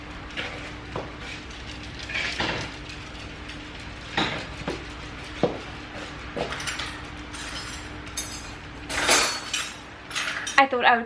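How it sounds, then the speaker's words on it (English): Dishes, cutlery and crockery clink and clatter in scattered bursts while a dishwasher is unloaded in a home kitchen, close and intermittent against a quiet background with a faint steady hum. "I need to unstack the dishwasher and do a few things"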